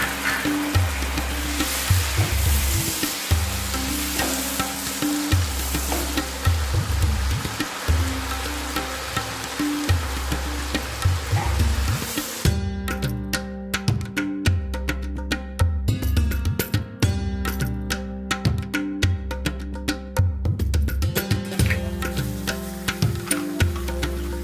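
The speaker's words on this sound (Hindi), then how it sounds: "मसाला भून गया है, अब उसमें टमाटर ऐड कर लेंगे।" Masala for veg khichdi sizzles and fries steadily in a pan, a dense continuous crackle with occasional stirring, loud and close under a low steady background hum.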